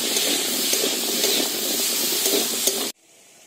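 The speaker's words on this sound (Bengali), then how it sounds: "নোড়টাকে খুব ভালো করে একটু ভেজে নেব।" Nor fruit fries with salt and turmeric in hot oil for a pickle: a loud, steady sizzle with faint stirring scrapes that cuts off abruptly near the end.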